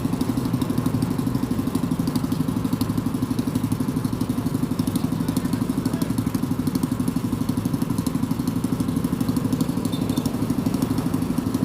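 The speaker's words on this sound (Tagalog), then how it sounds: "patayin mo muna yung makina niyan" A motorcycle tricycle sits idling on Mel Lopez Boulevard in Manila, its engine putting out a steady, even chugging pulse that stays close and unchanging throughout, with no voices over it.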